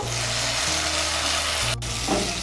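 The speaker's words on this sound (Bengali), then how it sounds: "মশলার সঙ্গে আলুগুলোকে ভালো করে কষিয়ে নেব" Boiled potatoes frying with spices in a pan give a steady close sizzle throughout, with one brief sharp scrape of a utensil near the end.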